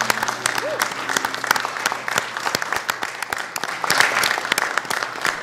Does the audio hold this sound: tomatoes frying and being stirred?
no